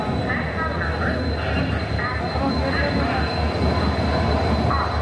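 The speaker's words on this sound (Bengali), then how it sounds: "আমার ট্রেন ঢুকছে এবার" A train rolls into a platform at Howrah station with a dense, continuous rumble and a faint metallic whine, while people talk through the noise nearby.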